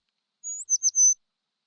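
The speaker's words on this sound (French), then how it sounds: "Oui, un oiseau." A bird in a cartoon animal guessing game gives a short, clean, high-pitched call: one drawn-out whistle followed by a few quick chirps, close and isolated against silence.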